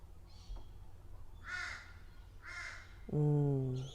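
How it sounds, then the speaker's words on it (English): Crows caw outdoors in two clear calls, one followed by a louder, harsher caw near the end, set against a steady low background hum. "Yeah, gotta love those crows."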